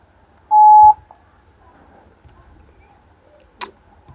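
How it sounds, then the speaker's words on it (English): A single steady electronic ringing tone of an outgoing WhatsApp phone call sounds briefly near the start, followed by quiet background and one short click. "It's ringing."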